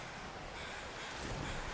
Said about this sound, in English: So this is a very, very cold, windy day.